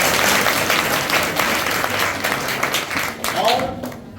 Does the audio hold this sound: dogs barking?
no